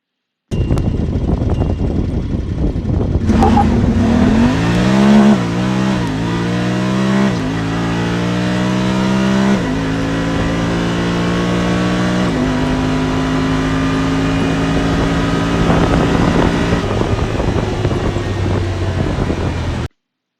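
Honda Pioneer 1000 UTV running a Florida Cracker tune in high mode, its engine revving up through a series of rising gear pulls before settling into a steady loud drone, close with wind noise and no talking.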